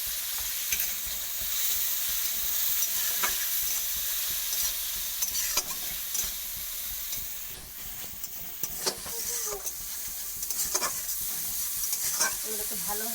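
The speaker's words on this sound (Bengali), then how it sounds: "এগুলোকে ভালোভাবে কষিয়ে আমি কষে নেব।" Cumin and spices stir-fried in oil with a little water in a pan for a Bengali fish curry, a dense steady hiss with scraping strokes of a spatula and occasional sharp spatters.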